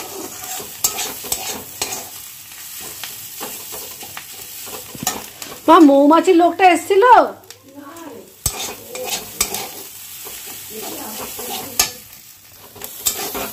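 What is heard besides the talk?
frying fish roe and ridge gourd in oil, stirring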